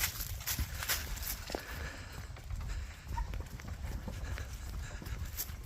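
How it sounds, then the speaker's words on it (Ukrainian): A mare walks steadily, her hooves clip-clopping in an even rhythm on firm ground, moderately near, with light background noise and no speech. "Ось така наша Маша йде впевнено."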